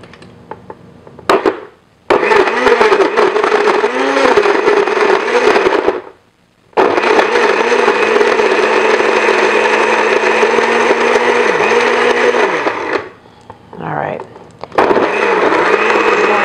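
A blender whirs loudly in bursts, blending persimmons into a two-ingredient vegan ice cream, stopping and restarting several times with brief pauses between runs.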